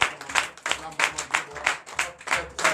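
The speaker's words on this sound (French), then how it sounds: "Je vous demande encore d'applaudir." Church congregation at a Sunday service in Comè, Benin, clapping in a steady rhythmic beat, about ten evenly spaced claps, fairly close, with a voice speaking over the clapping.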